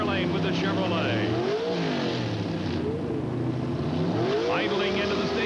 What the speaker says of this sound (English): Idling into the staging beams and lots of RPM